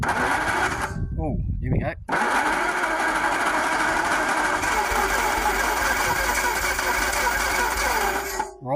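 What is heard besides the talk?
Daimler 250 V8 starter cranking, engine trying to fire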